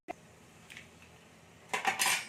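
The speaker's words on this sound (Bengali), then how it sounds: "দুটো ডিমকে আমি ফাটিয়ে দিচ্ছি" Two eggs cracked against a pan or bowl while making egg paratha, giving a few sharp clinks and cracks near the close, then a short cluster of taps and shell knocks with no talking.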